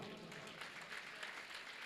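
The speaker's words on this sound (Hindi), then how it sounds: "एक बार जी के हाथ खाली हो, ताली बजाओ।" Audience clapping at the Bhiwani Gaurav Samman honours ceremony, a steady, faint wash of many hands heard from a distance, evenly sustained with no clear breaks.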